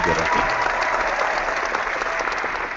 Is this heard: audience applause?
yes